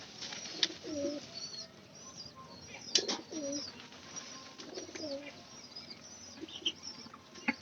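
Pigeons coo in soft, repeated low murmurs close by in a loft with pigeon chicks, with occasional faint chirps and light rustles between the calls.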